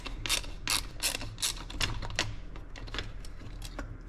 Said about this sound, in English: we're gonna use my little ratchet that I hardly ever use